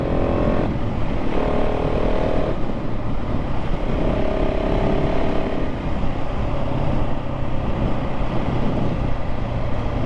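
A KTM 690 SMC-R supermoto motorcycle being ridden, its single-cylinder engine droning loud and close with a steady rumble and shifting pitch through gear changes, constant throughout with wind noise and no speech.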